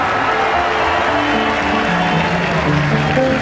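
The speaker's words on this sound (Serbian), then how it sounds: "Pozdravite ga velikim aplauzom." A concert crowd at an outdoor barbecue festival in Leskovac applauds a young man for a band performance, a dense, steady wash of clapping and crowd noise with faint tonal sound beneath, continuous for a few seconds.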